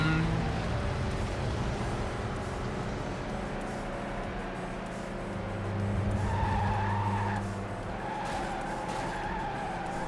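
Car tires skidding and squealing continuously in the Hot Wheels World Race game, a loud steady screech over racing engine noise that swells briefly midway, with no talking.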